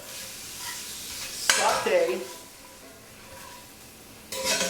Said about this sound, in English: saute the fat and keep the oils for the flavor